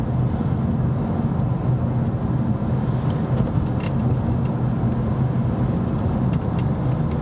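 A BMW E90 3 Series car builds speed to pass a slow van, a steady broadband engine and road roar heard from inside the cabin, loud and continuous without a sharp rise in pitch.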